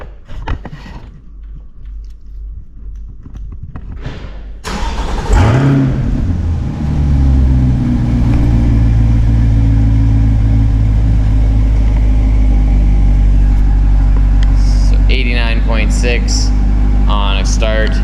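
A C8 Corvette fitted with high flow cats fires up after a quiet stretch with a sharp crank and bark, then settles into a loud, deep steady idle, with blips of revving near the end.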